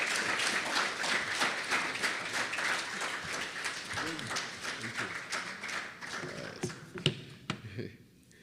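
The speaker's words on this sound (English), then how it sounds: "Please give a warm round of applause for Honorable Dr. Terence Drew." Applause from an audience at an evening launch event in St. Kitts and Nevis, welcoming an honorable speaker to the podium. Steady clapping runs throughout, then thins into a few scattered claps near the end.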